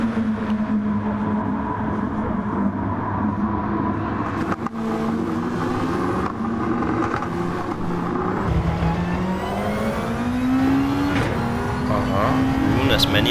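A Gran Turismo 7 race car at Suzuka roars close and loud, its engine pitch climbing and dropping through gear changes, with other cars whining nearby and a commentator talking over it.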